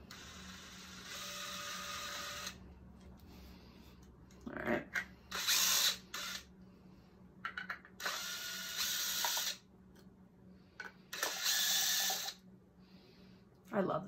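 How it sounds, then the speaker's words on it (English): A DeWalt cordless drill whirs in several short bursts of a few seconds each, starting and stopping with quiet gaps in between. "I love this drill."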